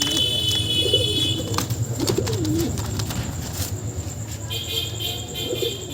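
Pigeons, including a pair of green pigeons, coo in soft repeated low warbles close by, with faint wing flutters and passing traffic in the background.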